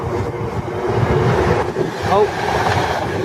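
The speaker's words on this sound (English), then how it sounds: "Also coming through is a Pendolino, which I believe stopped up there for some reason." A Pendolino electric train runs through a busy mainline station platform, a steady rumbling roar with wind buffeting, while a person briefly speaks nearby.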